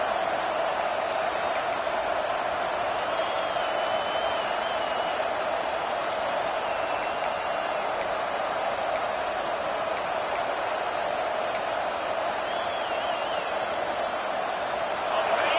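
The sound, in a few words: stadium crowd cheering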